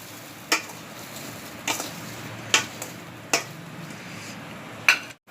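Turmeric and salt are mixed into pickle ingredients of mango and lasoda, producing a handful of soft, separate clicks and scrapes of a spoon at irregular intervals over quiet background, with no talking.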